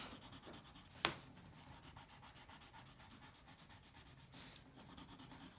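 A colored pencil shades back and forth across a paper color chart, producing soft, quiet, rhythmic scratchy rubbing strokes with one sharper tap near the start.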